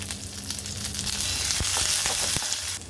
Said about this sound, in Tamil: வெங்காயம் பூண்டெல்லாம் ஓரளவுக்கு வதங்கினதுக்கப்புறம்